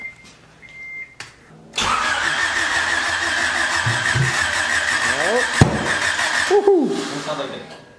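A Honda Civic wagon fitted with a new turbo setup cranks over and catches near the two-second mark, then settles into a steady, close, loud idle with small throttle blips. Faint talk is heard before the start and under the running engine.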